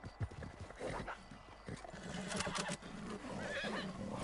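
A horse in a video game whinnies and snorts amid busy game sounds, with hoof-like thumps and rustling, the neighing rising clearly near the middle and end of the stretch.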